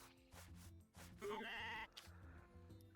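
A sheep in the farming video game Story of Seasons: A Wonderful Life gives a single clear bleat over looping background game music.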